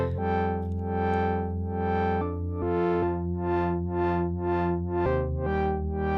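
A sustained sine-wave tone from a Vongon Paragraphs synthesizer with rich harmonics shifting pitch every couple of seconds, pulsing rhythmically in a steady wobbling swell from stereo LFO modulation.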